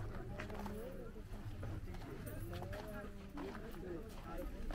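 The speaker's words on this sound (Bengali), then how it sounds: "হ্যাঁ এই তো এই ঘোড়াগুলো" Horse hooves clip-clop steadily beside a horse-drawn cart near Marble Lake in Puruliya, close and continuous beneath near-constant conversation.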